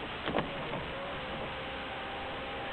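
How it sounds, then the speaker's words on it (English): Power sunroof on a Saturn car gliding open, a steady, even electric motor whir with a faint click at the start, close and smooth throughout. "The sunroof moves to any position as long as you press the button."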